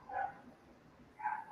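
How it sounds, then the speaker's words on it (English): Dogs bark twice in the distance, two short faint woofs about a second apart over quiet room noise. "Can you hear the barking?"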